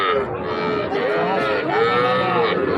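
A cow moos loudly and close at a rural cattle market selling local and Sahiwal heifer calves, one long drawn-out bellow filling the whole moment.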